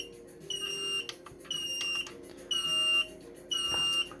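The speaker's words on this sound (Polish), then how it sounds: "włączę jeszcze alarm" A four-channel thermostat's low-temperature alarm beeps in a steady rhythm, four high electronic tones each lasting about half a second, spaced evenly, close and fairly faint.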